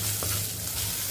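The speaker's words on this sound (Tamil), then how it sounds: "வெங்காயம் கொஞ்சம் லைட்டாக வதங்கிடுச்சு." Chopped onion and green chilies sauté in a hot pan, a close, brief crackling sizzle with a light stir.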